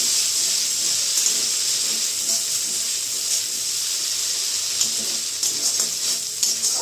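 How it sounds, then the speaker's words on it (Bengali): Spice masala sautéing in oil over a low gas flame for a milk paneer dish, a steady close sizzle and hiss running throughout with faint stirring scrapes, no voices. "এটাকে একটু ভালো করে কষে নিতে হবে গ্যাসের ফ্লেমটা লোয়ে করে কষে নিতে হবে"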